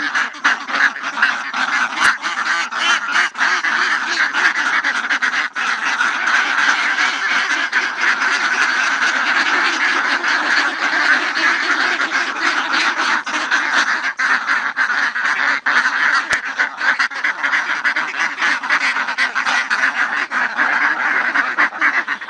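Dense, continuous quacking from a large flock of hungry ducks on a duck farm in Topi, Swabi, loud and close throughout with no talking.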